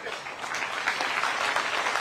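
An audience at a political rally claps in a dense, steady burst of applause that lasts throughout, with no voices heard over it.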